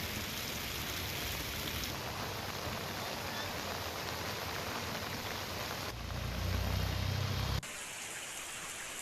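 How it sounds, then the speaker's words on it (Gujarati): Heavy monsoon rain pours steadily in Limkheda, Gujarat, a dense, continuous hiss that stays loud throughout, with a brief deeper rumble near the end. "લીમખેડામાં મુશળધાર વરસાદ પડતા લોકોને ગરમીમાંથી રાહત મળી"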